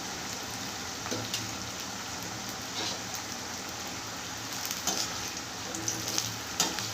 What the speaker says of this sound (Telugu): ఈ కాకరకాయలు వేసేసుకోవాలి రెండు తూర్లు వేయించుకుందామండి